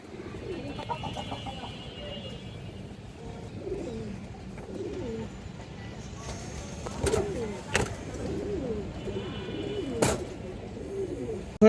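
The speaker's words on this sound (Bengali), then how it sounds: "অনেক সুন্দর একটা কৌতার একবারে পুরনো ব্লাড লাইনের কৌতার" Pigeons at a Bengali farm selling breeds such as army, giyachulli and silver-neck coo steadily in low, overlapping calls, with a few sharp clicks and brief background noise.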